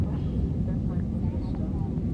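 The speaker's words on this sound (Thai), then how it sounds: "เครื่องกำลังจะแล่นลงแล้วเพื่อน ๆ" Steady, loud low rumble of an airliner cabin as the plane descends toward landing in Paris, France, a constant engine and air roar filling the whole stretch with no break.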